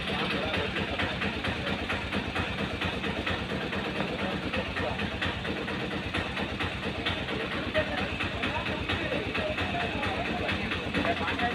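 A tractor stuck in mud runs its engine steadily for the whole stretch, a loud continuous rattling diesel drone with a fast pulsing beat, while people talk over it.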